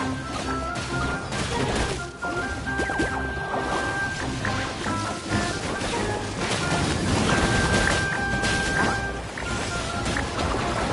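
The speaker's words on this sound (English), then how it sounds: "Pyro 1, release the explosion!" An explosion goes off in Genshin Impact during a fungus battle, unleashed by the Pyro fungus. A loud run of crashing, splashing impacts rolls on continuously without speech.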